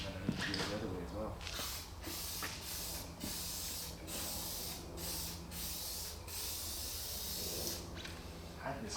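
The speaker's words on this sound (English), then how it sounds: "You still need to come back from the front and spray towards the back." A spray paint can hisses in repeated bursts as paint is applied to an army truck engine during a CMP rebuild, close and loud, with brief pauses between sprays and someone talking over it.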